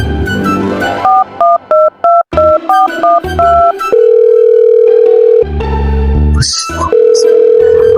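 A telephone is dialed at night, with a quick series of distinct keypad tones followed by long steady ringback or dial tones, loud and close, with no talking.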